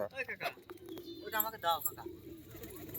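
Several pet pigeons, highflyers kept at a home loft, coo in soft low repeated calls alongside brief chirps, with people talking close by over the birds.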